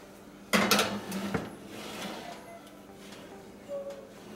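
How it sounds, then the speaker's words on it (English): A tray of Swedish cardamom rolls slides into a 350-degree oven with a close metallic clatter and scrape of the pan on the rack, followed by a soft thud and quiet room tone. "we're going to put it in the oven for about 12 to 15 minutes on 350 degrees"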